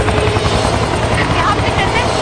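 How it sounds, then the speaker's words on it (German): A helicopter's rotor thrums steadily and loudly throughout, with a continuous whirring drone and faint voices underneath, in the video game XIII. "Der Helikopter."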